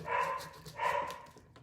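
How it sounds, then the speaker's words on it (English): Dogs bark indoors at a garage door opening, two broad muffled barks a moment apart, moderately near with no talk over them. "that's why the dogs are barking."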